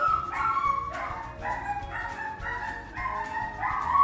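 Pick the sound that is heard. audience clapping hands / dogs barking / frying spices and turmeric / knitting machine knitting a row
dogs barking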